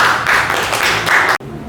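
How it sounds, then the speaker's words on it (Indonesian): Classroom applause for a student group presentation, a short burst of steady clapping from a small group that cuts off abruptly near the end. "Tepuk tangan buat kelompok 2."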